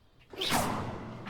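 The Revelio spell cast in Hogwarts Legacy, a single soft magical whoosh swelling and fading over about a second, with no talk.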